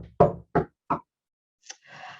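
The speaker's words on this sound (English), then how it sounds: "he knocks on the door" Three sharp, evenly spaced knocks on a door during a live storytelling performance of a Japanese folk tale, followed by a soft brief rustle and faint shuffling noise.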